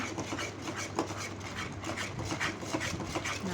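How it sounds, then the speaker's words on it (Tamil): Continuous rubbing and scraping as thick porridge for a baby is stirred in a pot, a steady close-up texture with no talking. "நம்ம கைவிடாமல் கிண்டிக்கிட்டே இருக்கணும்"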